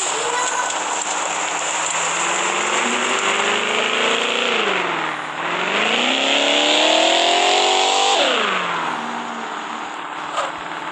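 Car engine revving and sliding through drifts in a GTA video game, a steady loud engine drone that rises and falls in pitch with each throttle change, running continuously without talk.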